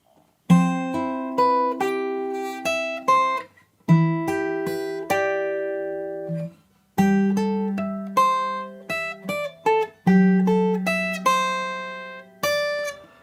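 Guitar plucking a melody from Minecraft, clear single notes in short phrases separated by brief pauses, each ringing and decaying, close and alone.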